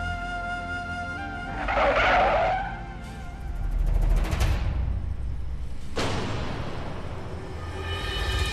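A car brakes suddenly and its tires skid in a loud, harsh screech, followed by rumbling road noise and a further squealing surge, with no voices.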